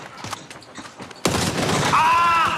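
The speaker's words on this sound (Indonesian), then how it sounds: "Beradu tembak, berhasilkah?" A firefight in the PC game PUBG: sudden loud booming gunfire bursts after a quieter stretch of muffled in-game noise, with a high whistling tone trailing over the shots.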